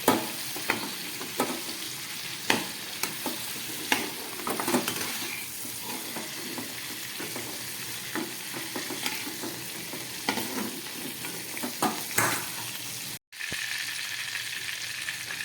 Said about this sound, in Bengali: চিকেনগুলোকে খুব ভালো করে আমি একটু বাটারের মধ্যে ভেজে নিলাম